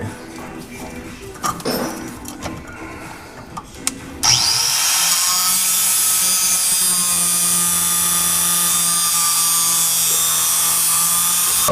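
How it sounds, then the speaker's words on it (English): An angle grinder cuts a seized nut on a BMW E46, starting after a few seconds of clanks and handling noise, then a loud, steady, high-pitched whine that runs continuously to the end. "cut the nut with the angle grinder"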